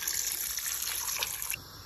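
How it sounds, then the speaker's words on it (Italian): Water pours steadily into a soup pot of beans during cooking, a continuous close gushing splash that cuts off near the end, with no talking. "Copriamo con l'acqua."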